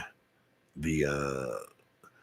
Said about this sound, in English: I am still belching